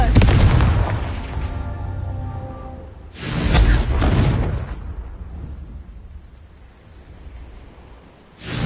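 In the video game Hogwarts Legacy, loud booming blasts from the Confringo fire spell go off, one at the start and a second around the middle, each leaving a rumbling tail, and a third blast begins at the very end.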